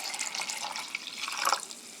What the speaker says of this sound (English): I'm going to make sure that it does wind up back into the solution by pouring back and forth